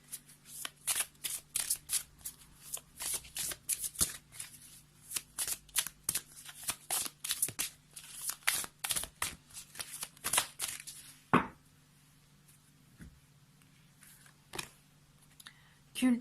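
Doreen Virtue magical unicorns oracle cards riffled in a rapid, loud run of crisp flutters and snaps for about eleven seconds, then a lone card slap and quiet.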